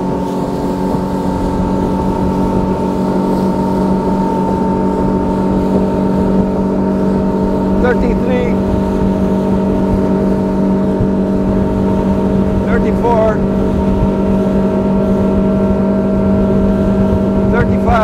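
A Boston Whaler 160 Super Sport motorboat under way, its outboard engine droning steadily and loud with a constant hum and rushing water noise throughout, picking up speed.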